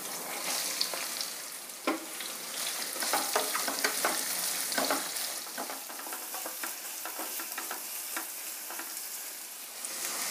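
Onions drop into hot oil where chana dal and urad dal are roasting, giving a loud, steady crackling sizzle. Sharp spatula scrapes and stirs punctuate it throughout, with no voices.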